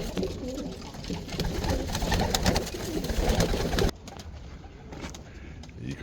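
Roller pigeons coo softly in a loft, a low continuous murmur of several birds layered over rustling, dropping quieter partway through.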